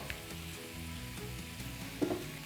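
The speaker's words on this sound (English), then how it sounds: "So now we're gonna add the shrimp and we're gonna cover it and we're gonna let it cook for 5 to 10 minutes" Shrimp for étouffée cooking in a pan give a moderate, continuous sizzle, with a few faint stirring taps and one small clink near the end. No one talks.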